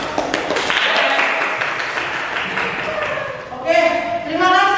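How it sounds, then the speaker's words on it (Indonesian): A Grade 12 class applauds during a classroom career-guidance session, a brief burst of clapping that fades as voices and a bright tonal sound rise near the end. "terima kasih tepuk tangan"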